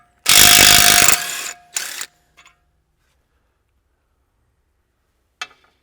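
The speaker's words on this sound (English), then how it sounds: "So we're going to take our impact" An impact wrench loosens worn knife bolts on a John Deere 7000 Series machine: one loud, close, rattling burst of about a second, then a shorter burst, a few faint clicks and a final sharp tap.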